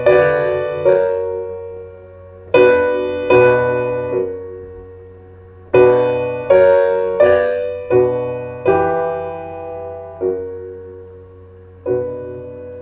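A piano plays a plain textbook chord progression, a series of sustained chords struck one after another and left to ring and decay, loud and clear with no talking.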